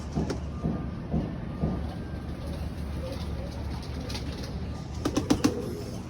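Released birds take off together, with a brief cluster of wing flaps near the end after a stretch of soft outdoor ambience and a few faint coos or calls.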